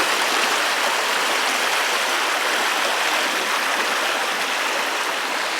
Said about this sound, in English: You got the little babbling of the brook there